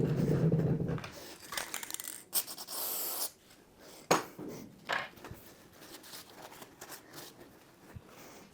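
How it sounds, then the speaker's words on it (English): A short hissing burst of WD-40 dry lube sprayed onto the screw of a router table, set among scattered handling and rubbing noises in a quiet workshop, with no talking. "I think I'll put a little bit of lubrication on the screw. I'm going to be using some WD-40 dry lube."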